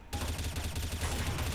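Rapid automatic gunfire spray in the video game Counter-Strike: Source, a dense, continuous burst of loud, close shots lasting over a second with no talk.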